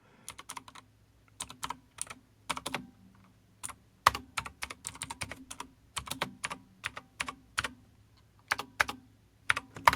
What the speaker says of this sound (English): typing with one hand because my mic's in the way